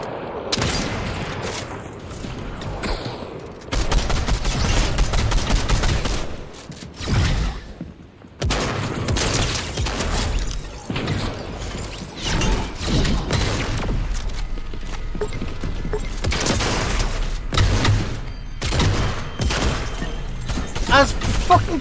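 Video game gunfire pounds against an invisible wall in rapid bursts of shots and booming impacts, loud and dense with brief pauses, while someone talks over the action.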